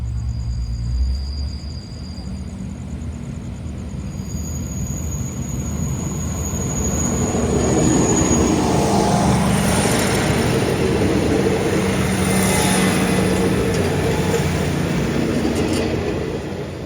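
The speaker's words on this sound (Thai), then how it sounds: "ออกจากสถานีบ้านโป่งนะครับสำหรับขบวน ด่วนพิเศษดีเซลรางนะครับ ที่ 40 ต้นทางสุราษฎร์ธานีไปทางกรุงเทพนะครับ" Express diesel railcar train No. 40 from Surat Thani to Bangkok leaves Ban Pong station and passes nearby. A deep, steady rumble swells and holds loud, with faint high tones early on and no speech.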